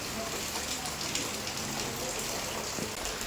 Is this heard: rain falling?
yes